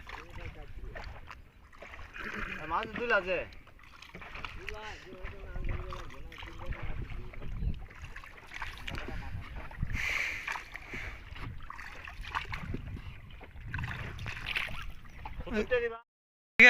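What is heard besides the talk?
rowing a wooden boat on floodwater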